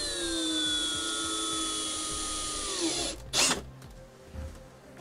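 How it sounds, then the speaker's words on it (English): Power drill boring a 5/16 hole through a car dashboard, a steady high whine for about three seconds that winds down, followed by a brief burst of sound and short clatter. "We're going to drill a"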